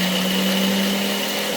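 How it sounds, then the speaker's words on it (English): A blender grinds dehydrated mirepoix into powder, giving a loud, steady, high motor whine that holds constant, with no talk over it. "It grinds up beautifully. You can use your blender, you can use your food processor."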